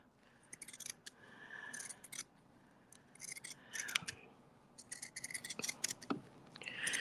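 Scissors snip little notches all the way around a piece of sewing fabric, giving a run of close, crisp cutting clicks in quick bursts with short pauses between them, alone and fairly near.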